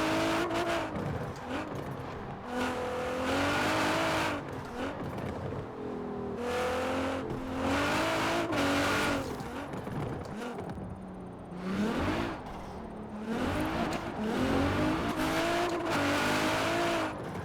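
A 1000HP Nissan Pulsar GTi-R in Forza Horizon 4 revving hard through its gears, rising engine wails cut by quick shift breaks and repeating in loud surges, with some tire squeal along the way.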